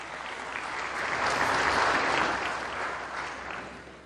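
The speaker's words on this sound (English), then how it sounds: "A massive round of applause for our advisory board," An audience at a continental aviation summit in Botswana applauds the advisory board, a dense, sustained wash of many hands clapping that swells in the middle and eases off toward the end.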